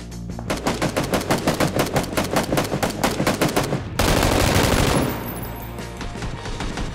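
Rapid automatic gunfire from the video game PUBG, loud and close, a long burst of evenly spaced shots for about four seconds, then a denser roaring blast that fades into a softer rumble.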